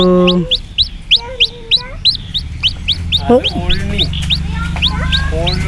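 Repeated close clucks and chirps from a chicken with a hurt leg in a steady rhythm, with a louder squawk midway and soft background noise.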